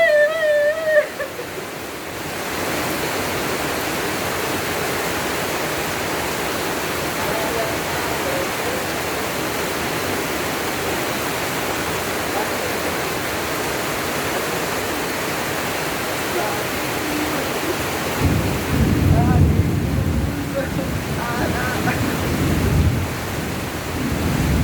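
Heavy rain pours in a steady, dense hiss during a local shower in the Philippines, with a deeper rumble of close runoff and drumming near the end.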